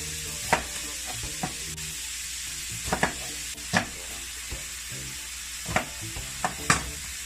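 An onion cooks in a pot with ground beef for chili, a soft continuous sizzle under a faint background hum, punctuated by about a dozen sharp spoon clacks and scrapes against the pot.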